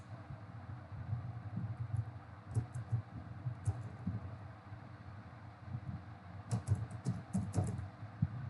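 Quiet typing on a computer keyboard, steady soft key taps with a few sharper bursts of clicks near the end, heard alone over faint background hiss.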